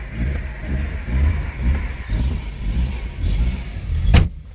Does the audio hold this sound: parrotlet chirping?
no